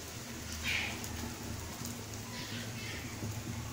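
Ash gourd fritters coated in gram flour batter fry gently in hot oil, making a continuous soft crackling hiss like light rain, steady and close throughout.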